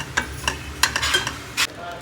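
Green chillies and tomatoes stirred and dry-roasted in a pan for a South Indian red chutney, with several scraping stir strokes over a soft, steady sizzle, close by with no talk.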